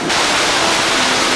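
Waterfall on Mount Gede: a steady, dense roar of falling water, loud and continuous without pause.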